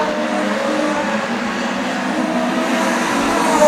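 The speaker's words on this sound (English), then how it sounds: "The next car to be lapped will be Dean Crow, who's about 60 metres up the racetrack" Production sedan race cars roar around a racetrack in a loud, steady engine drone that swells slightly toward the end, heard from trackside with no one talking.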